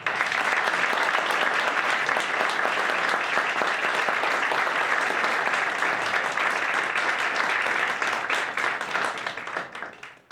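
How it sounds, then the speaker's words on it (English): A graduation ceremony audience claps in a dense, sustained burst of applause that holds steady before tapering off near the end. "Give another round of applause for Lynn."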